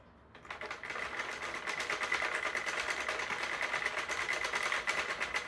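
A Sentro knitting machine is cranked slowly for a couple of rows, giving a steady run of fast, even mechanical clicks and rattles at close range, with no talking.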